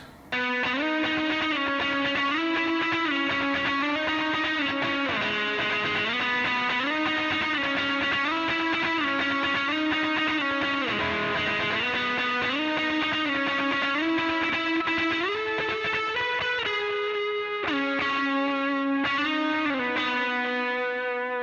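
Distorted electric guitar plays the main riff of a song, a repeating riff with slides between notes, steady and loud throughout, with a brief pause near the end before it resumes.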